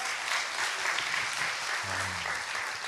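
An audience on a talk show breaks into applause: thick, even clapping from many hands fills almost three seconds, and a short voice is heard under it near the end.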